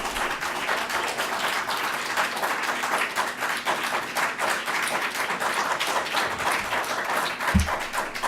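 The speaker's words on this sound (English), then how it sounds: "The longer you clap, the longer we stay." Audience members at a school board meeting clap continuously for several seconds as dense, even applause with no break, heard from within the room with a brief low thump near the end.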